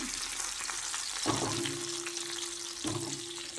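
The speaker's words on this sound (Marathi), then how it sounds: "तेलात मिरची टाकलेली आहे ना" Green chilies sizzle steadily in hot oil for a sabudana fasting khichdi, a close, continuous frying hiss with a couple of brief clinks and stirring bumps, no talking.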